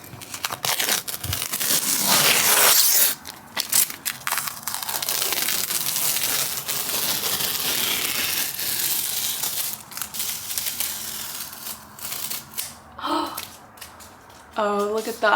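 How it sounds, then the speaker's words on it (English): Paint trim tape being peeled off a bedroom wall, giving a long run of close crinkling, tearing rasps with brief pauses, ending in a few short sharper rips. "I still need to take off the paint trim tape"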